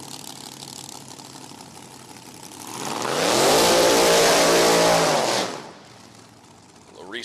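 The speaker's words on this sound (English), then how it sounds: "First pair, final qualifying and top dragster, Larice family." Top dragster engines at an NHRA Division 4 drag race at No Problem Raceway during final qualifying, rising from a steady rumble into a loud, sustained roaring pass of about three seconds before fading back down.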